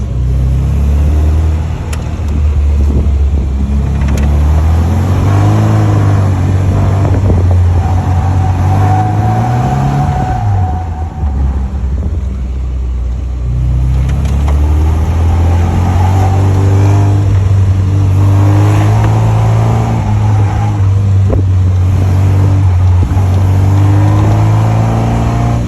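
A small Austin-Healey Bugeye Sprite with front disc brakes driving figure eights, its engine droning loud and close for the whole stretch and rising and falling in pitch as it speeds up and slows through the turns.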